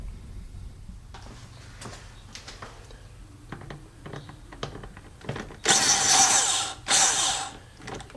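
A 6.5 mm socket on a power driver loosens a hose clamp on the intake of an e90 BMW 328i, giving two loud close bursts of whirring after quiet clicks of handling.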